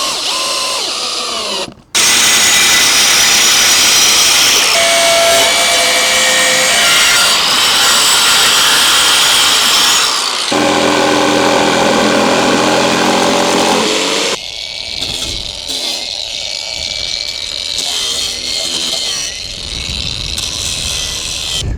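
A power saw cuts through wooden boards while a camper terrace is built, a loud, close, sustained whine that changes pitch as the blade bites into the wood, followed by rougher grinding and rubbing.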